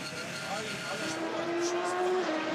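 A race car at full throttle during the 2014 24 Hours of Le Mans: a steady, loud engine drone holds without easing off, a rising tone tracking the revs, while a commentator talks over it.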